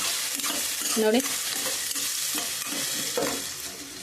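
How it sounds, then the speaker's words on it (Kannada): Green chillies fry in a pan with a constant near sizzle, broken by repeated stirring scrapes and a couple of clinking taps of a utensil against the pan, with no one talking. "ನೋಡಿ ಇವಾಗ ಫ್ರೈ ಆಗ್ತಿದೆ"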